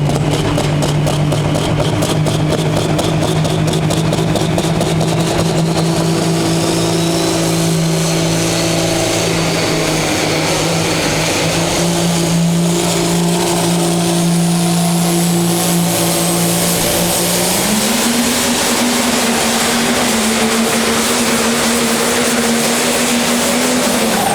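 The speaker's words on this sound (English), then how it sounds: "They'll keep a close eye on this tractor called the Revelation Pro, another international inside of the field." The Revelation Pro, an International pro stock pulling tractor at the 2019 Scheid Diesel Extravaganza, holds a loud, close engine drone with a steady harmonic pitch that steps up sharply near the end, and no one talks over it.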